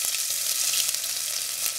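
Whole spices, including bay leaf, fry in hot oil at the start of a chicken biryani, giving a loud, steady, hissing sizzle close up with faint crackles throughout and no voices.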